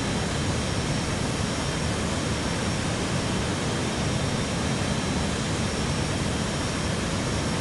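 A Boeing 737 MAX 8 takes off from Lien Khuong Airport in the RFS flight simulator game, giving a loud, continuous, even jet roar that fills the clip without letting up.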